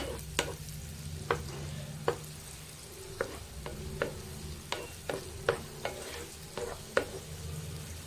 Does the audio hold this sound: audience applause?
no